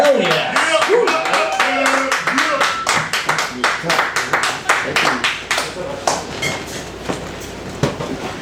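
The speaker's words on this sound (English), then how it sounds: "let's get a big round of applause for this next act" Open mic crowd clapping at an anniversary show, a sharp, uneven burst of hand claps running under cheering and shouting voices, fading toward the end.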